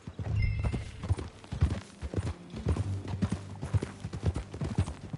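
Horse hooves clip-clop steadily at a walking pace in the Red Dead Redemption 2 video game, each hoof fall distinct and fairly close, with no talk over it.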